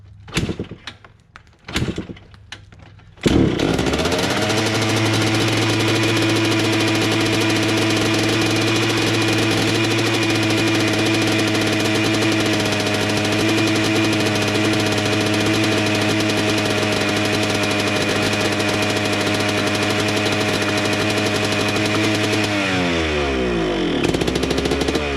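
A Yamaha Blaster ATV engine, salvaged after five years and unable to hold an idle, catches after a few brief attempts and then runs loud and steady at a raised speed before dying away near the end.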